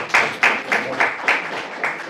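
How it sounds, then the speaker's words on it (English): Brief applause from a small audience at a conference on empowering voices in North East India, in Manipur, with a few distinct bursts of clapping in an uneven rhythm. No one speaks. "Round of applause."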